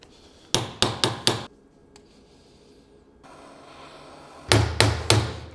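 Two bursts of four sharp, ringing metal hammer strikes each on a bent screwdriver, evenly spaced and close, separated by a quiet stretch of faint background noise.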